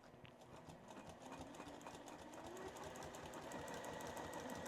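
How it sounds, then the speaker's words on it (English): A sewing machine stitches forward and back while free-motion quilting, giving a steady, fast mechanical chatter and hum that stays faint and even throughout. "I'll just stitch forward, 1, 2, then I stitch back, 1, 2, well, I'll do 3"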